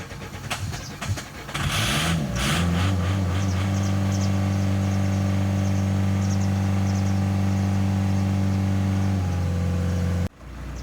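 An Opel Vectra C with a Y22DTR diesel engine cranks several times in quick uneven bursts, catches, and settles into a loud, steady idle that runs on for several seconds before stopping abruptly.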